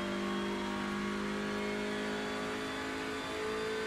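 A TCR touring race car in the iRacing sim at Watkins Glen accelerates out of a corner, its engine holding a strong steady mid-pitched drone that rises slightly, with no voices over it.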